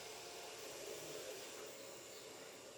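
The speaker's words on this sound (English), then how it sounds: "I hear my little vacuum starting up." A steady broadband whirring hum of a small robot vacuum running continuously in the background, fairly faint and unchanging.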